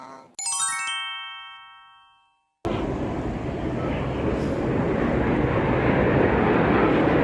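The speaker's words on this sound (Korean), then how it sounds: "지금 혹시 비행기 소리 들리시나요?" A brief ringing chime sounds first, then after a short silence a loud, broad airplane roar passes over an apartment complex in Daegu, holding strong and steady to the end.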